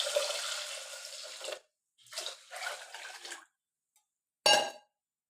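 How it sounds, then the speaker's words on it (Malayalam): Water is poured into a cooking pot for Ramadan cumin rice porridge in three separate splashing pours, the first long and the next two shorter, followed by a brief clink. "അപ്പം ഇനി നമുക്ക് വെള്ളം ഒഴിച്ചു കൊടുക്കാം"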